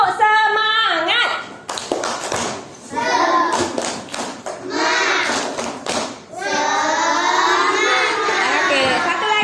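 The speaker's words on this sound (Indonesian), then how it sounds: "Kita buat tepuk semangat." A group of people performs a tepuk semangat, loud rhythmic clapping in quick patterned bursts mixed with shouted, chanted voices, pausing briefly between phrases.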